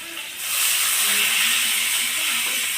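Water poured into a pot of mango sour dish: a steady, loud rushing pour that starts after a brief moment and carries on without a break, close by, with no talk.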